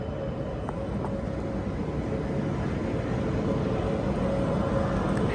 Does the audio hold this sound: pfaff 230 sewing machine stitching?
no